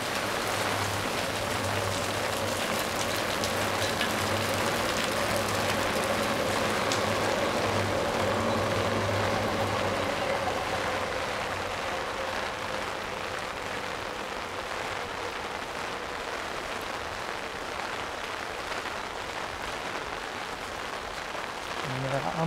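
Steady rain patters across a street beside a railway line in Tokyo in a broad, continuous hiss, with a low hum from nearby traffic or machinery in the first half.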